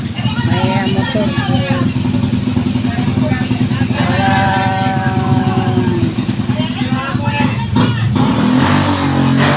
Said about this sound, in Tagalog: may maingay na motor